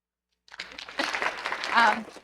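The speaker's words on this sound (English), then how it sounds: "I'm going to ask you to stand up so that we can applaud all of your work" A crowd breaks into applause after a brief silence, clapping building and swelling with a few cheers mixed in.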